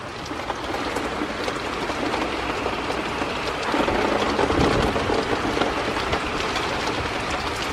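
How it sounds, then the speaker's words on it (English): Steady rain and wind from a small summer thunderstorm make a continuous dense hiss and rush, loud and unbroken, with a slight swell midway and no voices. "Just rain and wind."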